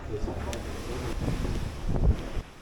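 Strong wind on a cruise ship deck buffets the microphone with low rumbling gusts, with a faint wash of water beneath and a louder gust near the end.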